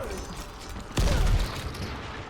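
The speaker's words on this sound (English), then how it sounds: "This is the God Ox Cannon!" The God Ox Cannon firing in the video game Dying Light, a single heavy boom that lands abruptly mid-clip over steady game ambience and leaves a brief rumbling decay.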